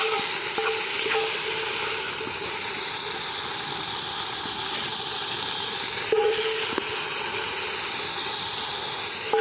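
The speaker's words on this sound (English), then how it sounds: "All I can hear is sizzling" Steady, close sizzling and hissing of food frying over a campfire, a dense crackle that continues without pause.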